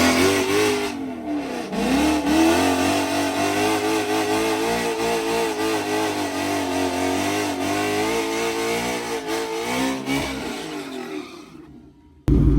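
A car engine revs hard and accelerates, its loud, close drone rising and holding through repeated pulls for about twelve seconds before cutting off sharply.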